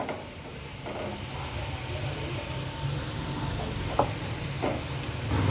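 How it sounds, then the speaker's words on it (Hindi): Cabbage tossed into a hot pan of frying vegetables for chicken chow mein, giving a steady close sizzle with a few soft stirring clicks and knocks. "अब हम इसमें बंद गोभी डाल देंगे।"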